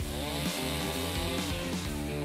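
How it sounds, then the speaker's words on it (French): A power saw cuts off protruding screws on a cardboard secret-room build, a steady loud buzzing drone with shifting pitch and no pauses. "On scie ce qui dépasse."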